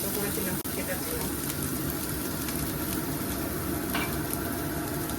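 Crushed ginger and garlic frying in hot oil, giving a steady close hiss and sizzle that runs the whole time with a few faint clinks, while a voice talks over it.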